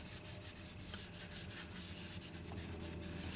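A wooden gun stock being rubbed down by hand with abrasive, a quiet, close, rhythmic scratchy rasp of strokes repeating about every third of a second, with no voices.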